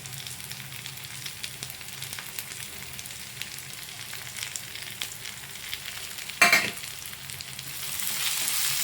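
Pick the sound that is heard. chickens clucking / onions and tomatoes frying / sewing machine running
onions and tomatoes frying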